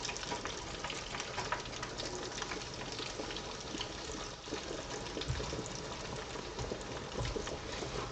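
Chicken thighs fry in hot oil, a dense, continuous crackling sizzle with constant bubbling that holds steady throughout at close range.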